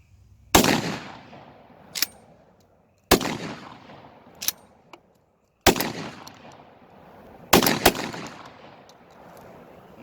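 Four loud, sharp blasts from a Black Aces Tactical Shockwave semi-auto shotgun firing light Remington 1-ounce 8-shot game loads, spaced a few seconds apart, each with a short echoing tail and a faint metallic clack after.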